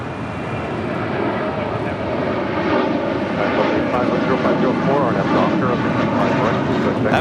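An airliner in Sandman People livery on the north side at LAX roars past, its engine noise a broad, loud, steady rush that swells slightly over several seconds, with voices faintly underneath.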